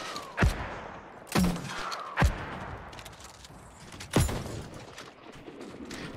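Mortar firing in the New World MMO, four separate booming launches spaced a second or two apart over low ambient game noise, with no one talking.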